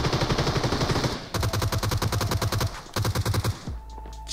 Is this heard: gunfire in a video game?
yes